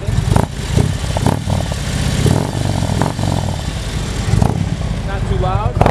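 The engine of a 2011 Harley-Davidson Touring Electra Glide Classic FLHTC motorcycle runs steadily at a low rumbling idle with slight rises in rev, heard close under someone talking over it.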